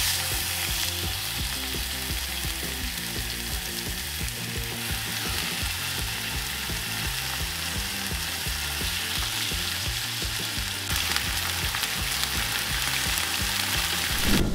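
Chicken breast frying in very hot oil in a pan, a steady loud sizzle and crackle running the whole time with no talking over it.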